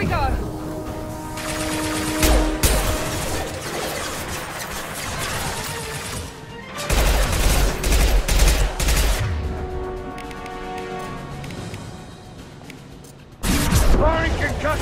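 Weapon fire from Mass Effect 2, dense bursts of concussive shots and heavy blasts that come and go in loud waves, with a speaking voice mixed in among the combat noise.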